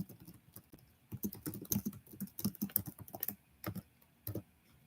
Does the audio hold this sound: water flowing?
no